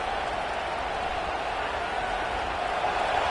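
A dense, steady roar from a packed stadium crowd at a football game, loud and continuous throughout, with broadband cheering and applause-like wash and no distinct individual voices.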